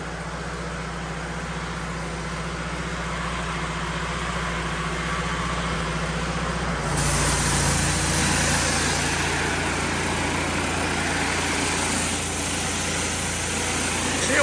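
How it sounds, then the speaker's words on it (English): A Wisper Wash machine's engine idles with a steady low rumble and hum, then revs up about halfway through into a louder, higher, sustained roar with an added whine. "Always want to let your machine idle for a minute, and then crank it on up."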